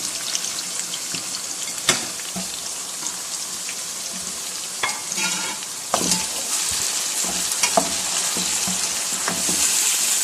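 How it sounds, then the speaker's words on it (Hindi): Chicken sizzles and fries in tomato masala over high heat while a spoon stirs it, a continuous close crackling hiss broken by scraping knocks of the stirring, with no talk. "अब हमने इसके नीचे फ्लेम तेज़ कर लेना और इसको इसी मसाले के अंदर अच्छी तरह से भून लेना है।"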